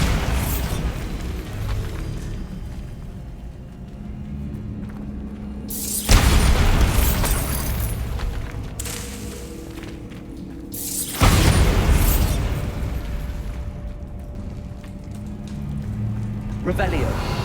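Bombarda blasting spell going off in Hogwarts Legacy, with two deep, booming explosions several seconds apart, each a sudden loud burst that rumbles away, over a low game ambience.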